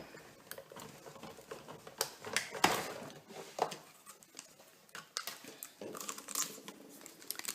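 Paper sandwiched with a Nestie metal frame die is cranked through a Big Shot die-cutting machine, giving a string of close, dry clicks, creaks and crunchy rolling scrapes with uneven bursts of pressure throughout.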